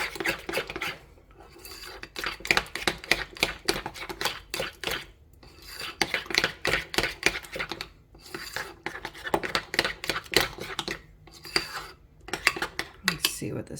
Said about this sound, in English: I'm going to chop my apple and put in with it.